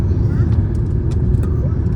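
A vehicle pulls up nearby, its engine giving a steady, close, loud rumble throughout, with voices talking over it.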